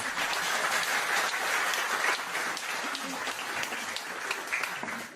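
Comedy show audience at a stand-up performance breaking into a burst of applause, a dense steady wash of clapping that stays loud for several seconds with some voices mixed in.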